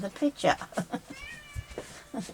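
A cat meows several times in short, plaintive cries, close by, mixed in with a person speaking over it.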